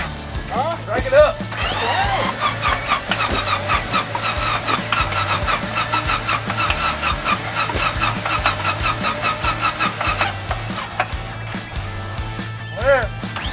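A WW2 fighter airplane's engine is cranked to start, a loud whirring, grinding crank with rapid rhythmic pulses that builds and holds for several seconds before dropping away, with brief voices around it.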